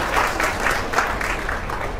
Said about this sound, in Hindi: जबरदस्त तालियां एक बार